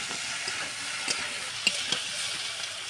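Fried pond fish heads, added with bitter gourd to a pan, are broken apart with a spatula amid a constant soft sizzling hiss, with a few faint scrapes and taps near the mic and no talking.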